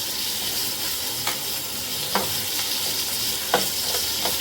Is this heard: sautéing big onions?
yes